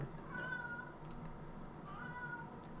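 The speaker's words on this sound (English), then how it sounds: "Why is the chat meowing? Oh, because Oh, Doug. because your cat" A pet cat meows in the background of a live online stream, two faint drawn-out meows about a second apart over low room noise.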